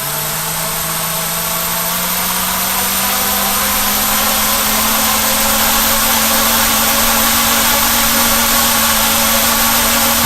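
Quadcopter motors run at takeoff speed on a desk indoors, a loud, steady whine with a slowly rising tonal hum underneath, constant throughout with no talking.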